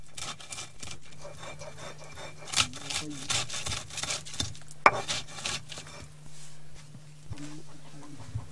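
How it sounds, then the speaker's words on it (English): Hard resin ground on a grindstone by a hideworker: rough, repeated scraping and rubbing strokes in an uneven rhythm, close and moderately loud, with no talking. "Some hideworkers grind the resin on a grindstone, heat it, and form it into small pieces."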